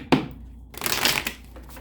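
Tarot cards are shuffled up close, a sharp snap followed after a pause by a longer riffling, crackling rush of cards, alone without talk.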